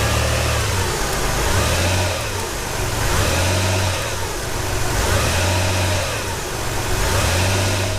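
A car engine revs in drive against the held brake during a transmission and engine mount check, repeated low throaty surges rising and settling every couple of seconds, close and loud, with no talking.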